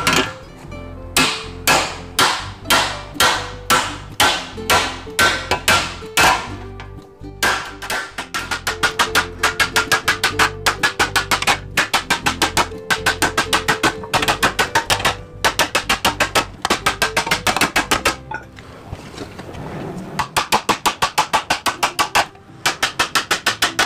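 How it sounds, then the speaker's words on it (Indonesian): A heavy, oversized hammer pounds a metal chopper motorcycle fender in loud ringing strikes, first spaced out, then in a fast steady series, ending with a burst of scraping noise and a few final blows. "untuk pemukulan lakukan dengan palu yang super besar atau super berat agar memudahkan pemukulan itu lebih cepat ya"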